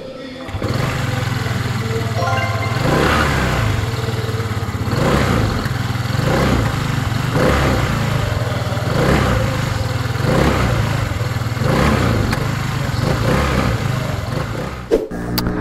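An FKM Venture ADV 180 motorcycle's 180cc single-cylinder engine on a test ride rises and falls in repeated revving swells about every two seconds, close and loud throughout, then cuts off abruptly at the end.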